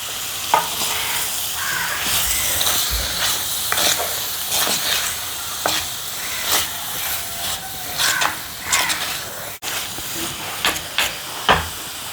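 Banana flower stirred into masala frying in a pan, with a steady close sizzle and hiss, broken by scraping stirring strokes and occasional clacks of the spoon against the pan.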